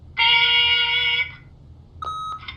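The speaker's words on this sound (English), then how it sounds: "Beep!" Answering-machine beep from The Wolf Among Us video game: a loud, steady electronic tone lasting about a second, then a shorter, quieter two-part beep after a brief gap, with no talk over it.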